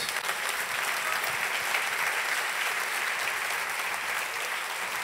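A crowd at a tech conference party keynote claps steadily, a dense, sustained round of applause that holds at full strength throughout.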